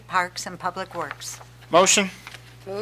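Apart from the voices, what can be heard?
No distinct noise like a dog, phone or traffic.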